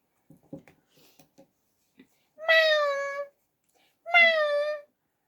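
Soft clicks and rustles lead into two long, drawn-out meows made by a human voice imitating a cat, close and clear.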